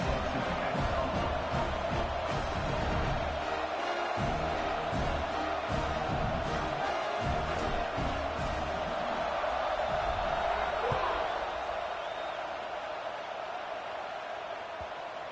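Stadium crowd in a college football video game, UCLA versus Ole Miss, a dense continuous roar and cheer that stays steady throughout and eases slightly near the end.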